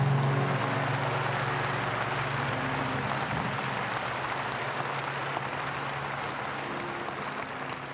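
Steady applause from a church congregation fills the whole stretch, a dense even patter of many hands clapping, moderately loud.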